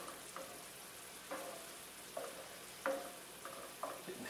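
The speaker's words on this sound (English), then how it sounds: "now we've gone from sauteing to kind of like boiling because of the wine" Garlic sizzles in a pan with wine while cooking shrimp Florentine: a steady, fairly quiet frying hiss with occasional soft pops and stirring clicks, no voices.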